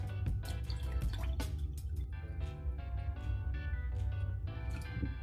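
Water poured into an apple cider vinegar mixture made from wild apples, a continuous quiet splashing and gurgling stream with dripping detail, heard close up without talk.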